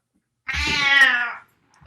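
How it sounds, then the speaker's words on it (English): A Siamese cat gives one long, drawn-out, rising and falling meow, close and fairly loud, with no talking. "It's a Siamese cat."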